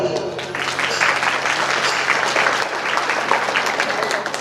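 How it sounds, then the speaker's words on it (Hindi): A crowd applauds steadily, a dense wash of many hands clapping at once, loud and continuous throughout. "चलो जाओ ताली बजाओ"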